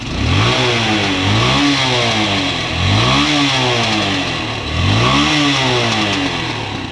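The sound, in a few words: Hero Honda Karizma R motorcycle engine revving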